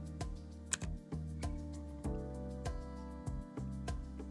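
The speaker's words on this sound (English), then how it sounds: "the primary discussion is going to be the Gateron Silent Black Ink V2 switches used in the keyboard" Muted, soft keystrokes on a tenkeyless hotswap keyboard fitted with Gateron Silent Black Ink V2 switches, a quiet uneven run of dull thocks at close range with no talk over them.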